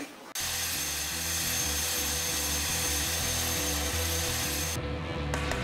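A helicopter flies over the Seoul metropolitan area, its rotor pulsing in a steady, loud, close beat with a high whine, briefly dropping off near the end.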